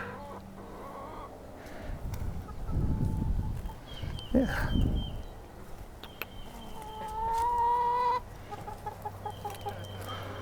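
Backyard chickens cluck nearby in short, scattered bursts, and one bird lets out a longer drawn-out call, all over low background noise and faint voices.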